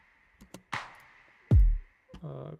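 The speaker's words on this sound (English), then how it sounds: "So it's a snap, then you have a clap" A layered drum sample of a snap and a clap from a pop production plays in short, dry separate hits. A deep booming hit and a brief tonal buzz follow, all alone over a faint steady hum.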